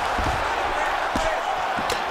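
Strikes landing as ground and pound in a simulated MMA video game bout, a few sharp thuds spread across a couple of seconds over a steady crowd murmur, with a commentator's voice.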